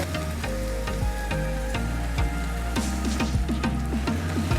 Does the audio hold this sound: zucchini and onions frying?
yes